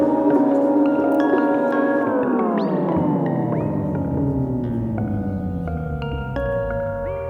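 Layered tones from a Strymon Volante magnetic echo machine slide steadily downward in pitch as tape playback slows to a crawl, a smeared, dragging wind-down with no talking.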